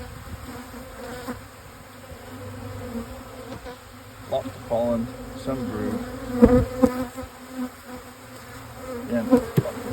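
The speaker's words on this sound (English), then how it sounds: "And lots more bees we need." Honey bees buzz steadily around an opened hive during a split of one colony into several, a dense close drone throughout with a person talking over it and rising handling noises toward the end.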